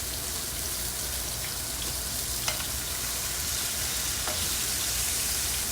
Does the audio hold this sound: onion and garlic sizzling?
yes